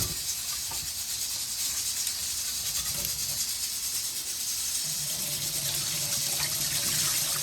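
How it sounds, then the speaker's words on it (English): Rice being washed for Jamaican stewed peas sits under a steady hiss and gush of running tap water with faint sloshing and no voices. "we're gonna wash the rice until it's no longer cloudy"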